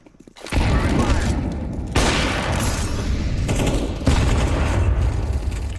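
Grenade blasts and gunfire in a first-person shooter game come as loud, dense booming bursts that open abruptly and roll on continuously, with fresh heavy impacts hitting at intervals.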